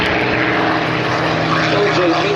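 Supermarine Spitfire engine droning steadily and loudly nearby, a dense continuous propeller-aircraft roar with no breaks.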